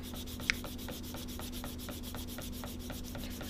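Sandpaper rubs in steady rhythmic strokes, roughly three per second, over the body of a 1971 Hemi Cuda during prep work, with one brief sharper tick near the start; close and moderately quiet, no talking.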